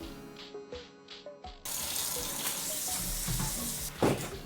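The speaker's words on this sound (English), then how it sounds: "Washing bigger things like these cutting boards is really awkward in a sink without a detachable hose, faucet, head, whatever you call it." Water running from a kitchen sink faucet while washing cutting boards, a steady rushing stream after a few clicks and clatters, with a brief louder splash near the end.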